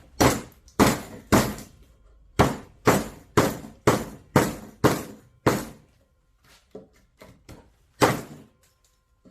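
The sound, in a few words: knife whacking and cutting a piece of wood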